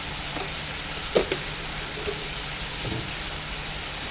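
Kimchi fried rice ingredients sizzle steadily in a hot frying pan, a constant close hiss with a few soft scrapes and clinks of stirring, and no talk.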